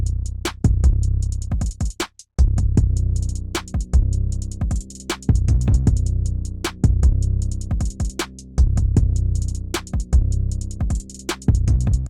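A programmed drum pattern plays a steady groove with punchy kick hits and crisp snare and hi-hat hits over a deep, sustained bass line, loud and close with no voices.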